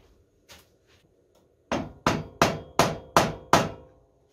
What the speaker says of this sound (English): I have tapped the trunnion nearest the loosened bolt